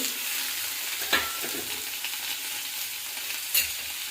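Dried red chillies, onion, garlic, tomato and tamarind fry in hot oil in a pan for a peanut-free dosa chutney, giving a steady close sizzle with two sharp clinks of stirring.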